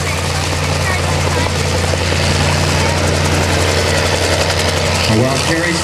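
A Bell 47 helicopter flying at a Rotorfest demonstration, its loud, steady rotor thump and engine drone filling the air continuously beneath a commentator's voice.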